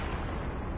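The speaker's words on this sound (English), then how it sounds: "And flashbang." Flashbang grenade going off in a first-person shooter video game, a short, loud, dense muffled blast that fills the moment with no talk.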